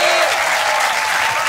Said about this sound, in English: please give a massive round of applause, Joel